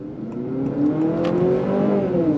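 A Honda CR-V Trailsport hybrid compact SUV accelerates on throttle, its engine note steadily rising in a smooth, continuous whir heard from inside the cabin, with no talking.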